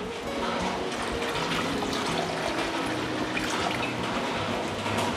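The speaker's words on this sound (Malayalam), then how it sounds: "ഗ്രേവിക്ക് ആവശ്യമായ വെള്ളം കൂടെ നമുക്ക് ഈ ഒരു സമയത്ത് ചേർത്ത് കൊടുക്കാം." Water pours steadily into a pot of fish curry gravy, a dense, continuous splashing rush at close range with no break for the whole stretch.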